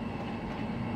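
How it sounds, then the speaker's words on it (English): A TGV Duplex high-speed train in the Trainz railway simulator gives a steady, loud rumbling roll, continuous with no break. "Train."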